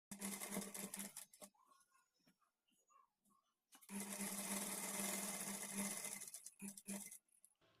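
Sewing machine stitching a fall onto a saree, running in two bursts of steady whirring with a short quiet pause between, close and fairly loud, with soft handling noises in the gap.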